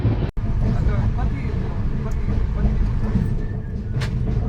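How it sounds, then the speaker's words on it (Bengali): Shatabdi Express train pulling out of Bokaro Steel City station, a steady loud rumble of rolling wheels and carriage noise filling the whole stretch, with a brief dropout near the start. "বোকারো স্টেশন থেকে ট্রেন ছাড়ার পর"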